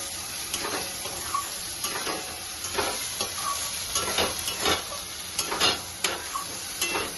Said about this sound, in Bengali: এটা এখন একটু চিনি দিলাম, দিয়ে এখন নাড়াচাড়া করে নামিয়ে নেব